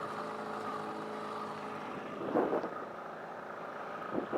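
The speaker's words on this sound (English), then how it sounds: "this little shit engine, man, it goes" Small outboard engine on a Basstender 11.3 boat, running with a steady harmonic hum throughout that swells louder around the middle and again near the end.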